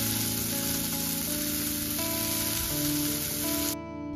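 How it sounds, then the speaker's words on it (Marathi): Sliced onion sautéing in hot oil with cumin makes a dense, continuous sizzle, loud and close, under a faint steady background tone that cuts off abruptly at the end. "जिरं तडतडू लागलं की मी इथे जो उभा चिरलेला कांदा आहे तो इथे घालणार आहे"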